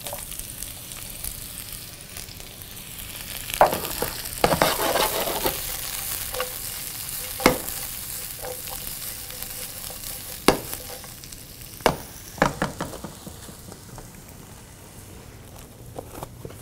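Onions frying in a pan on medium-high heat for a beef stir fry, a steady close sizzle broken by sharp clicks and scrapes of stirring, with no voices.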